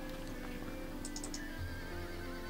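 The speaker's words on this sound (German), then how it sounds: "Diese schwarzen Pferde haben rote Augen und lassen damit auf das Temperament ihres Besitzers schließen." Black horses with red eyes, nervous and aggressive, neigh in the Dracula Origin adventure game, a shrill whinny rising partway through over a dense background of game ambience and faint clicks.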